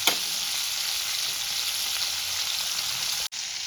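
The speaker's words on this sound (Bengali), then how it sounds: "পনিরগুলোকে একটু লাল লাল করে ভেজে তুলে নেব" Paneer pieces frying in hot oil give a loud, steady, close-up sizzle that holds evenly, with a brief dropout near the end before resuming.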